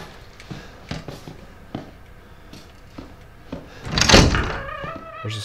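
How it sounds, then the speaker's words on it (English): A snake door opening in the Resident Evil video game, a heavy burst of creaking and scraping that swells loudly near the end, following several soft thunks and footsteps. "There's a snake door across the hallway."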